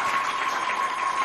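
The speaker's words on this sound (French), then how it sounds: "j'aimerais qu'on applaudisse pour tout l'établissement qui l'a peut-être aidé" Applause from an assembled audience at a school event in Chad, steady and dense throughout, with no voices standing out above it.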